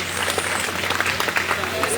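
Children at a Tesla Public School launch event in Nohar clap together in a steady, dense patter that stays fairly close and even for about two seconds, with crowd murmur mixed in.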